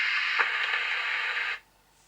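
A CB radio, an EMS Mercury 1040 mobile set, hisses with open-squelch static, a steady loud rush of noise that cuts off abruptly as the squelch closes, leaving near silence.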